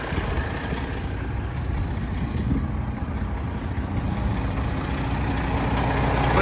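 The Detroit engine in a well-used 2015 Kenworth W900L glider truck idles steadily with a deep, continuous low rumble, close and loud and unbroken by speech.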